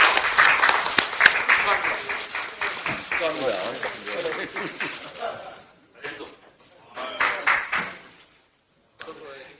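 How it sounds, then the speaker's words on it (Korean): Applause rises at a political party meeting marking the launch ceremony of Gangwon Special Self-Governing Province, with crisp clapping mixed with voices at first, then thinning into scattered bursts and brief pauses as people talk. "힘찬 박수로 강원특별자치도의 출범을 힘차게 응원해 주시기 바랍니다"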